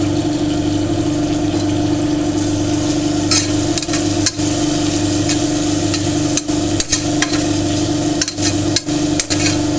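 Onions and mint sautéing in an oiled pan for chana biryani: a steady, loud sizzle runs throughout, broken by occasional sharp scrapes and clinks of a spoon stirring against the metal.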